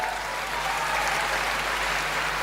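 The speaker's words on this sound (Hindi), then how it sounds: "आशीर्वाद दे सकते हो ताली बजा के ऐसे करके" An audience at a Kavi Sammelan poetry recital applauds in a brief, dense and even burst of clapping that fills the hall at moderate volume, with no voices over it.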